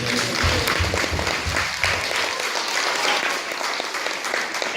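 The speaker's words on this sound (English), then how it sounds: "So let's give them a round of applause too." A school play audience applauds, a dense and continuous round of clapping that holds steady, with a few isolated louder claps near the start.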